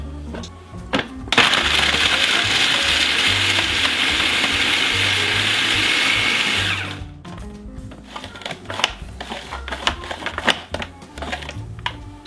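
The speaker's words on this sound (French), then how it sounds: "J'ai mis les 10 cookies dans mon mixeur et je vais tout simplement les broyer." A food processor grinds ten Oreo cookies into crumbs with a loud, harsh whirring roar that lasts several seconds before cutting off, followed by scattered rattles and clicks of crumbs and the machine settling.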